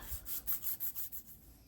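Fine 1,000-grit sandpaper rubbing a sterling silver Victorinox Classic knife scale, a soft quiet rasp in about six even back-and-forth strokes with no talk.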